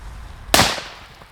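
A single sharp, loud bang from an FP3 Black firecracker going off outdoors, following a quiet moment and trailing off in a short decay.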